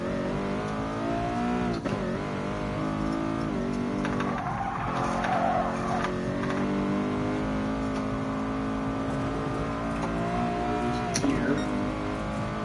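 A Nissan R32 GT-R with very short gear ratios races around Tsukuba in the video game GT Sport. The engine roars loudly and steadily, gear changes break the drone, and tires screech in short squeals along the way.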